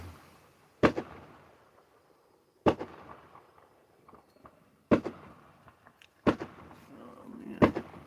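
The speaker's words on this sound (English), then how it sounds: "shooting off fireworks again. Everywhere." Fireworks and firecrackers go off outdoors in five sharp, loud bangs spaced a couple of seconds apart, each trailing into a brief rattling decay over quiet background noise.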